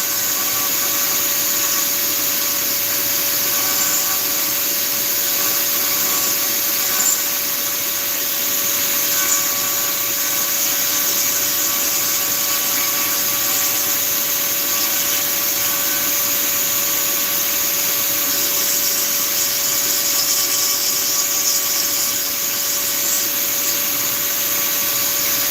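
Rotary tool fitted with a coarse-grit diamond burr, running continuously with a steady high-pitched whine and buzz, close and loud throughout with no talking.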